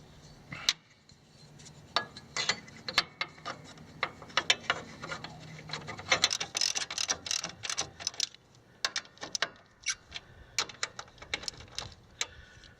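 Close, irregular ratcheting clicks and metallic taps from a wrench working on the motor mount nuts, lock washers and washers of a Jeep CJ-5, with scattered clunks of tools on the frame.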